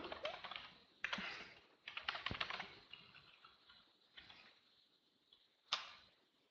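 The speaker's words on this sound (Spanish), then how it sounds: "si yo tecleo mi comando" Quiet keyboard typing comes in short bursts of quick clicks, with brief pauses between and one sharper keystroke near the end.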